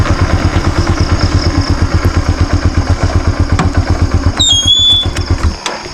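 A motorcycle engine idles close by with a fast, even chugging pulse, then a brief high whine and the engine cutting off near the end.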